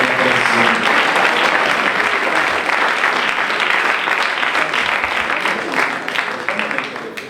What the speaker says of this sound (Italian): Quindi un applauso davvero per l'attività bellissima